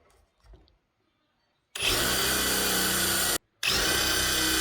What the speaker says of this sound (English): So now we're just going to drill down through so we can catch that second piece of wood down below to attach it.